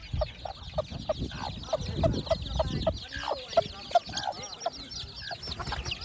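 Hens and a rooster cluck repeatedly in a farmyard, sharp close calls rising over a busy background of other birds, with a person's voice speaking now and then.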